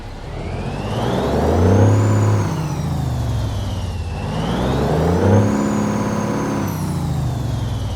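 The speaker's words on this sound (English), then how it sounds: "let's go ahead and get this Kenworth W900 day cab started up and get on the road" Simulated Kenworth W900 day cab truck engine in American Truck Simulator, a loud, steady mid-pitched drone that rises and falls in two slow swells, with no talking.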